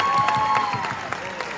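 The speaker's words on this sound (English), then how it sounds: "Can you give them a round of applause for the gift?" Applause from a crowd at a school farewell, a dense steady round of clapping filling the room for a gift presented by teachers and a 10th-grade class, with a sustained tone running underneath.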